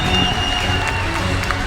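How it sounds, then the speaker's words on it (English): A grandstand crowd at an Irish drifting event applauds and cheers in a dense, continuous wash of sound. "give them a big round of applause. Let them hear you from the grandstand."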